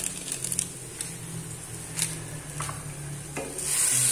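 Pancit noodles with soy sauce are being stirred in a hot pan, scraping and tossing strokes landing in irregular bursts over a soft steady sizzle that swells louder near the end.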